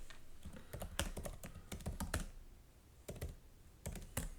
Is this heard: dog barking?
no